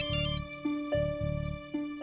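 A mobile phone rings loudly, playing a bright electronic melody that repeats in short pulses with brief gaps, with no voices.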